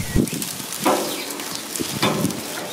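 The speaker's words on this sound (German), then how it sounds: "So, ihr hört es zischen." T-bone steak and New Zealand lamb loin sizzling on a barbecue grill over an almost burned-down fire, a steady close crackling hiss with a few sharper pops and spits, no voices.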